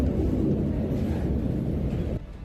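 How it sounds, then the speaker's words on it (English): Thunder rolling during a heavy snowstorm in New York City, a loud, steady low rumble that fills the whole moment and then drops off slightly at the end, with no voices. "thunder snow in New York City."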